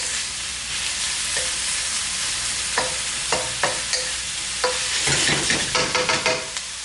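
Onions sauté in a pan with kosher salt over a steady sizzle. Several sharp spatula scrapes and knocks land in a loose rhythm through the second half, close and fairly loud.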